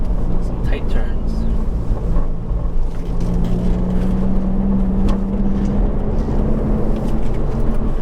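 A 2019 Subaru WRX fitted with a Remark Stealth Edition axleback exhaust hums with a low, steady drone through tight turns, heard from inside the cabin beneath a person talking.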